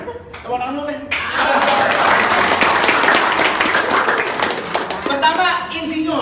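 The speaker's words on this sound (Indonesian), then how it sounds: "Tepuk tangan dulu deh." Audience applause at a talk about insurance agents, a dense burst of clapping rising after about a second and holding steady for several seconds before thinning out, with a speaking voice before and after.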